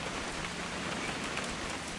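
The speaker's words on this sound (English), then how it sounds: "It's gonna rain the whole weekend" In a video game, rain pours steadily as a dense, loud, unbroken hiss of drops hitting surfaces, with no talking over it.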